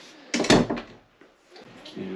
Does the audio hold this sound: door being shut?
yes